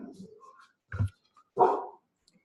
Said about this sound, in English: those are my dogs in the background being crazy